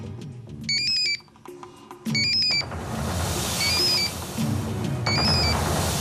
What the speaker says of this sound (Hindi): मैडम, जैकॉल को फोन